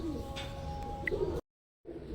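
Pigeons cooing close by in a loft, a few soft low rounded calls repeating over a steady hum, broken by a brief silent gap before the sound resumes.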